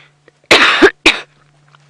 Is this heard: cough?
yes